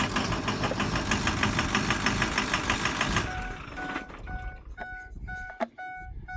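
A 2004 Ford 6.0 diesel engine, misfiring and hard-starting after an oil change, runs loud and rough for about three seconds, then cuts off, leaving faint clicks and tonal beeps.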